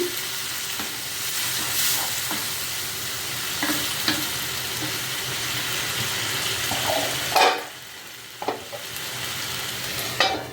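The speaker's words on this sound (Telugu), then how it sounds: "ఇది కొంచెం సిమ్లో పెట్టి మగ్గనిస్తాను" Nethalla iguru, a South Indian curry of small dried fish, simmers and sizzles in a pan with a steady bubbling hiss, broken by occasional scrapes and stirring clatters, close up with no talk.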